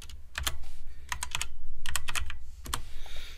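Keyboard shortcuts tapped on a computer keyboard come as clusters of crisp, close keystrokes in quick bursts with short pauses between them, and no voice is heard.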